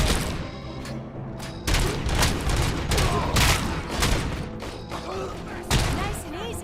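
Gunfire from an unlimited-ammo weapon in RoboCop: Rogue City, a series of loud, close shots and thuds in irregular bursts over a dense, busy game soundscape.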